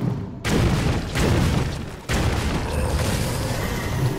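Booming blasts from a base bomb detonating in a turn-based strategy game, a deep heavy roar that swells twice in quick succession and rumbles on without voices.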